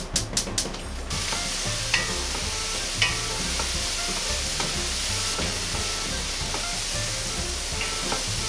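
Leftover dashi fish flakes dry-roasting in a clean pot give a steady crackling sizzle, opening with a few quick clatters and then scraping stirs at intervals, loud and close with no talking.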